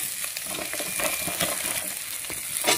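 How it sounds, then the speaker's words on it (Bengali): Chopped onion dropped into shrimp frying in hot oil for a Bengali prawn and water spinach dish, giving a steady, close sizzle with stirring scrapes throughout and no talking. "পেঁয়াজ কুচিটা চিংড়ি মাছ ভাজার মধ্যে দিয়ে দিলাম।"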